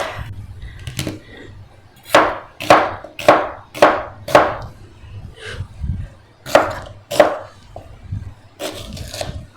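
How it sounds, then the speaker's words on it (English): A knife chops through cooked perogies on a cutting board for a sheet pan dish, a run of sharp, close, evenly spaced thuds in two bursts with a short pause between and a low hum underneath. "I'm going to chop these other ones up"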